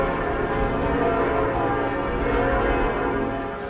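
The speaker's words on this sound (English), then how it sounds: "the bells of Notre-Dame tolled once more, their sound cascading over the city like a benediction" Bells of Notre-Dame cathedral in Paris tolling after a hymn, a dense, ringing wash of overlapping bell tones and sustained resonance that stays loud and unbroken throughout.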